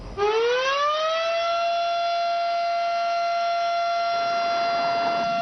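An old outdoor warning siren on a flimsy tower in Cedar Springs winds up quickly to a loud, steady, sustained wail that holds at one pitch without stopping.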